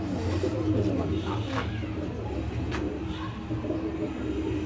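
A female pigeon from a collection of pigeons kept for sale coos softly and low, partly buried under steady background noise throughout.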